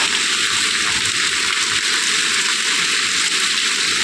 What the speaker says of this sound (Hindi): फिर आरव गया तो उसके पीछे पीछे चली गई वो बारिश में भीगने के लिए।